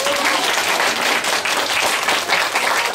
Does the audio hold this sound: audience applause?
yes